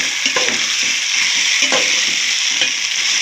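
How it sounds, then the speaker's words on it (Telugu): Biryani masala with fresh coriander and mint frying in ghee, a loud, close, continuous sizzle with faint stirring taps at intervals. "మసాలా ఎంత బాగా ఫ్రై అయితే టేస్ట్ అంత బాగుంటుందండి"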